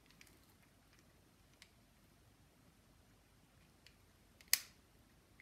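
A single sharp, close click of a jewellery clasp snapping shut rises from a quiet background, with a few fainter small clicks earlier.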